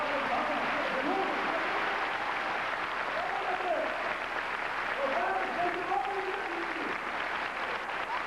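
A church congregation claps steadily and densely for several seconds in a continuous wash of applause, with voices mixed in underneath.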